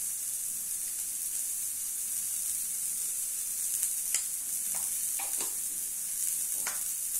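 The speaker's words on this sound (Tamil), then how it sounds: "நல்லா வதங்கட்டும்." Ingredients for Navaratri sundal sauté in a pan with a steady, soft sizzle and hiss, broken by a few brief scrapes and clinks of stirring, close and alone.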